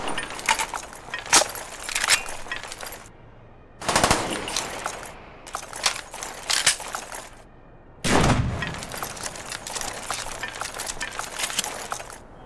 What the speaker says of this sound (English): Listen to all these different reloads and tell me what they all have in common.